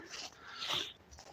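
A dog on a snowy outdoor walk gives a brief, fairly quiet whimpering yelp that rises and fades within a second, with no speech over it.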